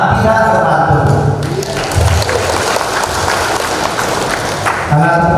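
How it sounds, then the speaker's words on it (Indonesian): Applause fills the chamber during a parliamentary inauguration of a provincial legislature's leadership in Bangka Belitung, a dense, steady roar of clapping heard at close range, with a voice and musical tones at the start and end. "Karena tepuk yang meriah saya tambah lagi."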